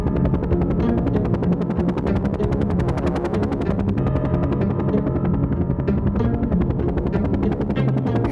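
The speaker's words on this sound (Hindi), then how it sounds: "बाबा ने टेक ऑफ किया और हेलीकॉप्टर को घुमाकर इजिप्ट की ओर ले जाने लगे।" A helicopter takes off and flies on toward Egypt, its rotor chopping in a rapid, steady beat over a continuous engine drone.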